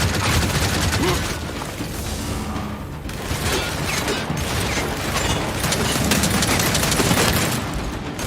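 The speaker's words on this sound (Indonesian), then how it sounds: "Awas nembak." Rapid automatic gunfire and mechanical clatter from the co-op shooter video game Gears 5, dense and loud throughout with booming impacts layered in, under a constant busy game soundscape.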